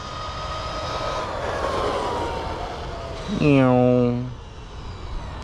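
A Traxxas Maxx RC car on 4S makes a high-speed run: a rushing motor whine builds and passes, then a sharp rising-and-falling electric motor scream near the end, with outdoor wind noise throughout.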